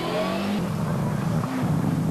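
A Group A Ford Escort RS Cosworth rally car brakes and shifts through a chicane, its engine note dropping then climbing again in revving surges, close and loud, with a commentator talking over it.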